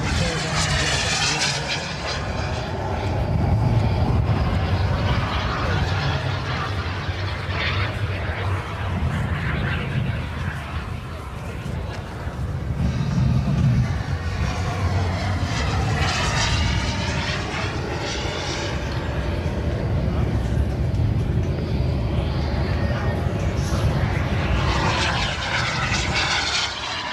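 A model Panther jet with a turbine of roughly 180 to 200 size makes a low pass at an airshow, a whooshing turbine roar that rises and falls with passes, a sharp high whine at the end.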